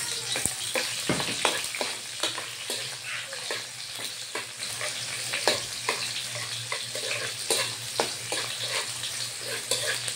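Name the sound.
onions frying in a pan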